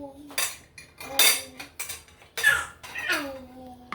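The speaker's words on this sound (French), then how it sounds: "je verse mes pommes à l'intérieur. Voilà. Et je tourne." Potato slices being stirred in a pan for a chicken and potato gratin: scraping, clinking bursts of a utensil against the pan come in an uneven rhythm, with brief voice sounds between them.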